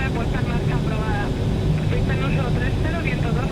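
Steady drone of a light general-aviation plane's engine in a flight simulator game, continuous and fairly loud across the whole stretch.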